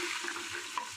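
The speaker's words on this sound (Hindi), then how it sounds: "अब ये इतनी मैं प्याज फ्राई करूंगी कि सॉफ्ट हो जाए।" Half a kilo of sliced onions frying in about a cup of hot oil, giving a soft, steady hiss and bubbling sizzle that stays even and fairly quiet for about a second.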